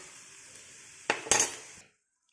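Elephant foot yam fry is stirred in a pan: a quiet low sizzle, then a few sharp metallic scrapes and clinks of a utensil against the pan before the sound abruptly cuts to silence.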